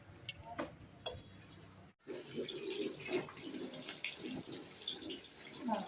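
Water splashes and trickles steadily while a Gopal idol is bathed, close and continuous after a brief pause, with a short knock or two near the start.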